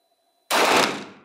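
A single sharp gunshot from a Canik Rival pistol at an outdoor shooting test in Marmaris, Türkiye, cracks out after a brief quiet and decays into a short echoing tail.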